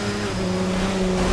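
A race car engine in the video game Forza 7 holds a steady, droning tone on wet track conditions, sustained and fairly loud for a brief moment.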